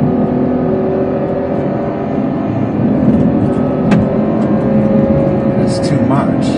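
Ferrari GTC4 Lusso engine runs at high revs around 6,000 rpm, a loud, steady drone heard from inside the car with a person talking over it.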